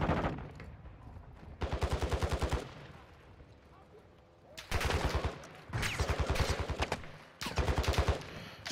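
Bursts of rapid automatic gunfire in a tactical shooter mission, several loud sustained volleys separated by quieter gaps with faint background activity.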